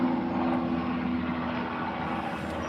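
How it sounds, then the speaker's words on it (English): A helicopter drones overhead outdoors on a cold day, a steady loud rotor and engine rumble that fills the whole moment with no voices. "Bloody choppers."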